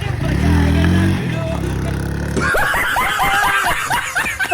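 Motorcycle started after a push and ridden off, engine revving up and pulling away close by with rising harmonic sweeps, mixed with chuckling laughter and voices.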